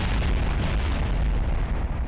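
A sustained, loud explosion rumble from Kerbal Space Program fills the whole stretch, a dense low roar with crackling debris texture and no clear separate blasts or talk.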